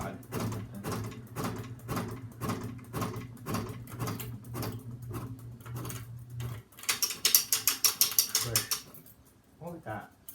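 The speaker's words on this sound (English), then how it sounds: "Oh, that was the chain." The pull chain of an SMC Park Avenue III ceiling fan rattles in a quick burst of sharp metallic clicks after steady fan hum and knocking, with a voice nearby.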